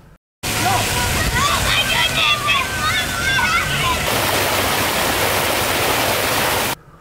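Fountains at Main Street Square in downtown Rapid City splash and rush in a loud, continuous broadband wash, with voices and chirps mixed in during the first half.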